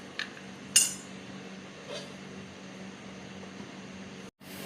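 A metal pot lid clanks twice as it is lifted off a pot of fish curry cooking with poppy seed paste, a short sharp clink over a low steady kitchen hum.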